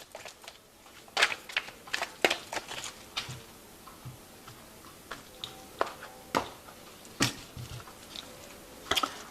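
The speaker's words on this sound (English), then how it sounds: "I have shuffled this deck." Soft, irregular clicking and flicking taps, close and fairly quiet, as a tarot card deck is shuffled and riffled, with no talking.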